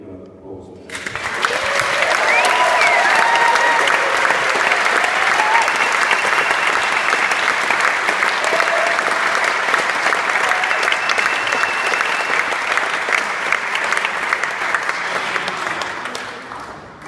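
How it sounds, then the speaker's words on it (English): Wedding guests break into loud, sustained applause for the bride after the father's speech, a dense wash of clapping that holds for about fifteen seconds, with voices and cheers mixed in. "Maybe we can give her an applause."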